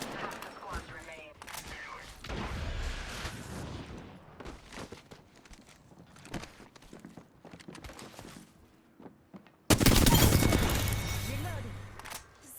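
Gunfire in the Apex Legends video game on the Olympus map: scattered shots and bursts amid game sound effects, ending in a loud, sustained close-range volley.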